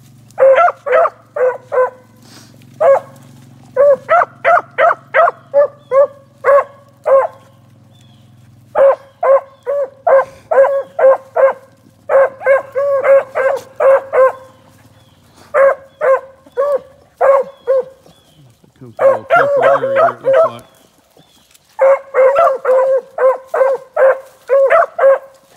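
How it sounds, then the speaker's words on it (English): A hound dog named Peach bays loudly in repeated bursts of quick barks, each flurry separated by short pauses, with a low steady hum underneath early on. "Peach is barking a lot better"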